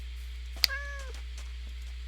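A single clear cat meow from a cat in the video game Minecraft Bedrock rises and then trails off, alone against a quiet steady hum.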